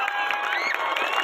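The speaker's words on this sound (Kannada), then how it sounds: "ಎಲ್ಲರೂ ಜೋರ ಚಪ್ಪಾಳೆ ಬರಲಿ." Crowd cheering and clapping at the Halli Power grand finale, a brief, fairly distant burst of mixed shouts and applause without any speech.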